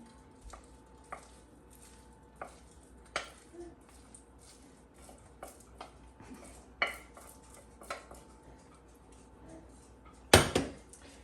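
A spoon stirs rice into vegetable kitcheri in a pot, giving repeated scraping knocks against the metal at an uneven rhythm, close and fairly quiet, ending in a louder clatter.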